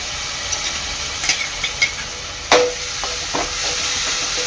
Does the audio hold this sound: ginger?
yes